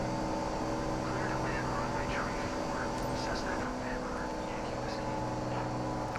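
A Cessna propeller plane in Microsoft Flight Simulator 2024 drones steadily as its engine is throttled back on descent toward landing, a loud, constant hum, with faint voices murmuring over it.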